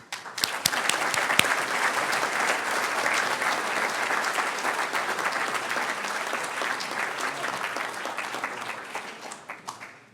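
Sustained applause from a City Club audience in Bellingham welcoming a guest speaker, dense steady clapping lasting about ten seconds before tapering off.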